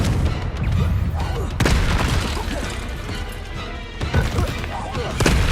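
Confringo fire spell blasts in the Hogwarts Legacy video game land as repeated heavy booms and bursts over a dense, loud bed of combat noise, with sharp hits recurring every second or two.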